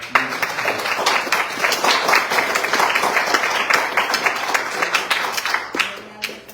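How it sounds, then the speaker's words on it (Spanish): Congregation applauding in church, a loud, close mass of clapping with audible individual hand strikes that fades out near the end. "Démosle palmas al Señor."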